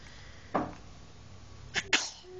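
A single close sneeze bursts out, followed by another quick sneeze a moment later, in an otherwise quiet room.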